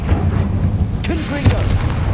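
A Confringo fire spell explodes in the Hogwarts Legacy video game, a short booming burst over a low rumbling game backdrop, with brief voice-like sounds in the middle.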